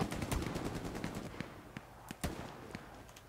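Gunfire in the World War II shooter Hell Let Loose: a quick burst of rifle and machine-gun shots at first, then scattered single cracks, some sharper and nearer, against faint background battle noise.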